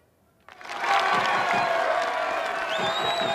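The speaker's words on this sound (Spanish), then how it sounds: "no aplaudan tanto" A film crowd at a football club bursts into loud applause and cheering after a short quiet start, with whoops and shouts over sustained clapping that continues to the end.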